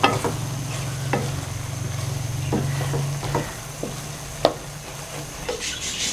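Finely chopped green chillies dropped into a hot pan for lobia curry, a soft continuous sizzle under occasional stirring scrapes and clinks of a spoon against the pan.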